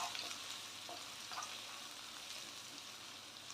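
A steady soft sizzle of sliced onions sautéing in a pan, with occasional stirring scrapes, fairly quiet and continuous.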